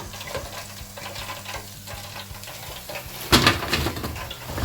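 Fine chicken pieces deep frying in hot oil for an Irish spice bag give a steady, close bubbling sizzle, with a louder burst of crackle near the end as the pieces are lifted.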